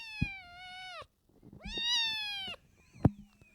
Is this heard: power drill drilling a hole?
no